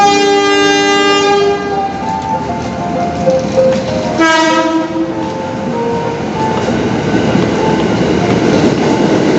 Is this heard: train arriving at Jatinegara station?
yes